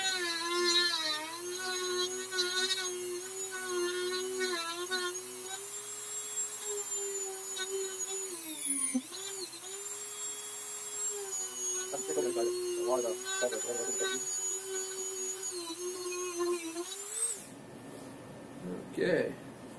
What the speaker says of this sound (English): that's a lot further down that we're having to drill than expected